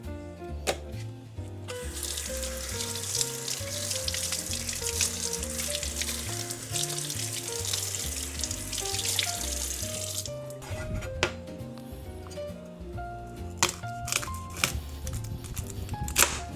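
Tap water runs steadily as garlic is washed under it, a broad rushing stream that cuts off near the end, leaving a few scattered knocks and clinks.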